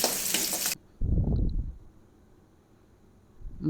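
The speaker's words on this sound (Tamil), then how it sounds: "தக்காளி போட்டுக்கிட்டு நல்லா வதங்கட்டும்." Tomatoes and onions sautéing in a pan: a loud burst of sizzling as they go in, stopping abruptly, then brief stirring and a low quieter frying sizzle that swells again at the end.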